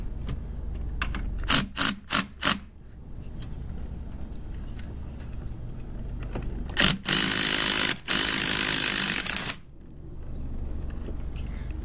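Ratcheting and clanking tool work while a bolt comes loose on a MK7 VW Golf SportWagen during a clutch install: a few quick metallic bursts, then a longer loud whirring run from a power tool, with quiet pauses between.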